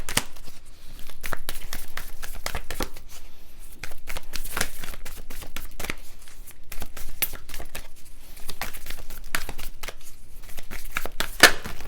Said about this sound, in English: let us pull you a couple of oracle cards